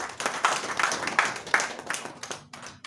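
Short applause from an audience at a live-broadcast civil-society partnership presentation in Lagos. The claps are crisp and fairly close, coming in quick, uneven bursts that taper off after a few seconds.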